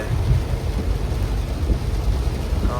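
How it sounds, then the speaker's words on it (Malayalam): Heavy monsoon rain pours down in Nilambur, Kerala, during flooding, a steady, dense roar with a deep rumbling undertone, continuous from start to finish. "നല്ല മഴയാണ് നല്ല മഴ"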